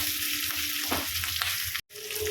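Ginger, garlic and slit green chillies sizzle and crackle steadily in a pan while an okra chilli dish is cooked, with a brief gap near the end.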